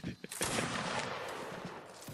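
A dense volley of musket gunfire bursts out in the Napoleonic battle game Mount & Blade: Napoleonic Wars, a loud crackling fusillade after a couple of nearer single shots, with a player's voice faintly underneath.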